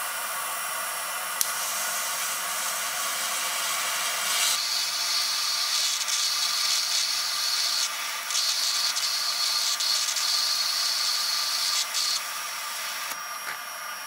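TIG welding on steel with argon shielding gas, a steady broadband hiss and buzzing arc that starts partway in and runs continuously at close range, with a faint tonal hum and no talk.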